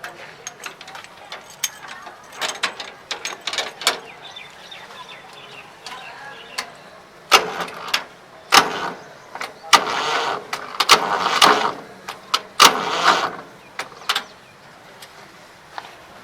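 A 2002 Massey Ferguson MF 240 tractor's self-starter cranks without the engine catching: repeated short bursts of whirring and clattering starter gears, separated by pauses, with voices talking around them.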